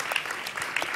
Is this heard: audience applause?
yes